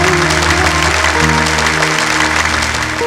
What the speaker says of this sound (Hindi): एक बार इनके लिए जोरदार तालियों से स्वागत किया जाए